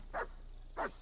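Two short dog barks from Kingdom Come Deliverance 2, spaced about half a second apart against a low, steady game-ambience hum.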